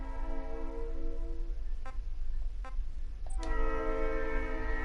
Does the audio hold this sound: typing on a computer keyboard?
no